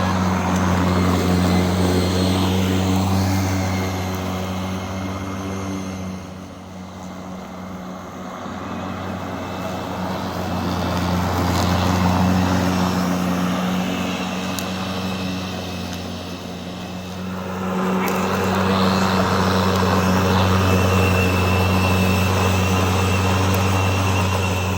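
An EGO 56-volt 21-inch self-propelled cordless lawn mower cuts through winter grass with a steady, loud electric whirring hum that dips briefly twice before swelling back.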